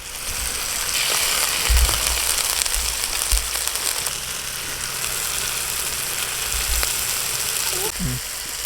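Steady, loud sizzling of onions and tomatoes sautéing in a pan, with an occasional low thump or clatter.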